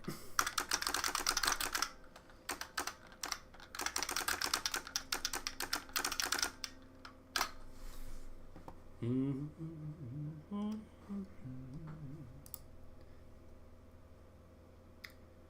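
Rapid mechanical typing on a large keyboard fitted with a solenoid, dense clattering keystrokes for the first several seconds, then sparser clicks with a faint whirring tone in the background, close and fairly loud.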